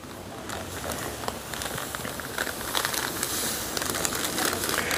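Bell pepper jam simmers in a pot over the lowest flame, giving a soft, continuous crackle of small bubbles popping, even and fairly quiet throughout.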